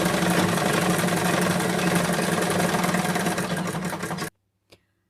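A sewing machine stitches a fabric hair band with a fast, steady mechanical clatter, close and continuous, then stops abruptly, leaving near-silence with one small click afterward.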